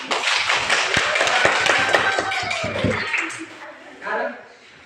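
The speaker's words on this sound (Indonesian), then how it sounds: "Tepuk tangan." Children in a primary school classroom clap their hands in a quick, uneven burst of taps, with voices talking and calling out over and between the claps before the room quiets.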